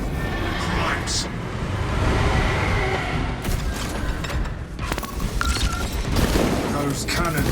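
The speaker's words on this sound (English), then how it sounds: "Those cannons are the Imperium's wrath made manifest." Heavy cannon fire booms through a dense, continuous din of battle in Warhammer 40k Space Marine 2, with loud bursts and mechanical rumble layered over one another for the whole stretch.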